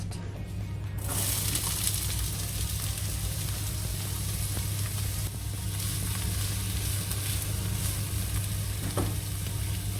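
Peppers hit a hot stir-fry pan with a sudden sizzle that settles into a steady, close frying hiss, with faint stirring scrapes throughout and no talking.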